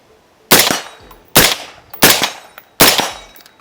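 Four sharp gunshots from a UAR-15 rifle with sand in it fire close by in an uneven sequence, each a loud crack with a short decaying tail.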